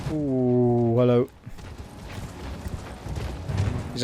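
Hooves of a galloping horse in the Elden Ring video game clatter in a quick, steady clip-clop. A sustained tonal sound comes just before the hoofbeats.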